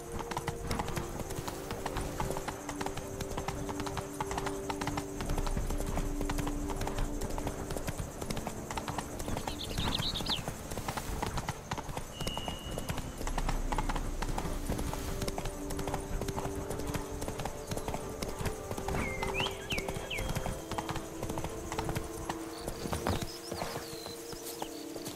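Roach, Geralt's horse in The Witcher 3: Wild Hunt, Blood and Wine, gallops with an unbroken stream of rapid hoofbeats over a droning game soundscape, as birdlike chirps flit past.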